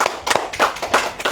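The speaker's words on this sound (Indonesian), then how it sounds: "Tepuk tangan guys." Hands clapping at a religious talk, a few sharp irregular claps close by over about a second and a half, sparse rather than a full crowd.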